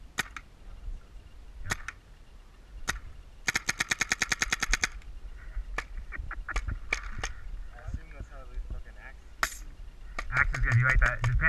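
A paintball gun firing rapidly on full auto during an outdoor paintball match, with scattered single pops and then fast rattling bursts. Players talk and shout between the shots.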